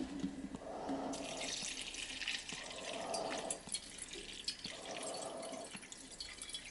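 Liquid being poured into a filter during gold recovery from computer RAM with hydrochloric acid and bleach, heard as a close, steady trickle with repeated splashy pulses and drips, no voices.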